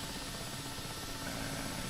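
A UH-1 helicopter in the DCS flight simulator drones with a steady, constant engine and rotor hum, quiet and unbroken, with no other sounds.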